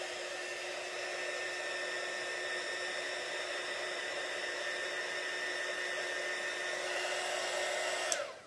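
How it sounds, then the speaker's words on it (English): A household blow dryer warming beeswax to soften it runs as a steady, close, whooshing hum with no one talking, then cuts off abruptly near the end. "You don't need a fancy heat tool. Your blow dryer will work as well."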